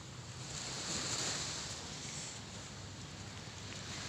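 Ocean waves on a quiet Lombok beach in the early morning, a steady broad wash of surf with wind rumbling against the microphone, continuous and fairly faint, with no voices.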